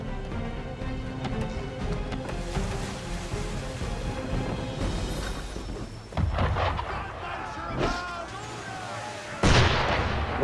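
Booming ship cannon shots in Assassin's Creed III, a few heavy blasts spaced several seconds apart with a louder one near the end, over a busy background of ambient game noise and voices talking.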